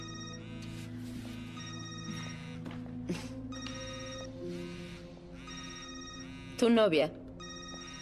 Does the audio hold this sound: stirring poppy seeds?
no